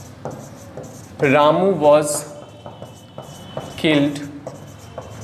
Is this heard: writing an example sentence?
yes